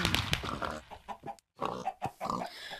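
Pig oinking from a Minecraft BlockHunt minigame, a series of short nasal grunts in quick bursts with a brief silent gap, close and clear.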